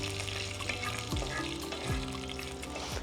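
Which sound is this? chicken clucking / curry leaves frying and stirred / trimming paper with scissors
curry leaves frying and stirred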